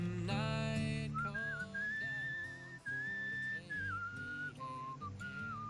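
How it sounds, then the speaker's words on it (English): A skeleton character in the video game Where the Water Tastes Like Wine whistles a wandering, sliding tune over steady instrumental game music, clear and prominent throughout. "And we can go whistling, and that lets us walk faster."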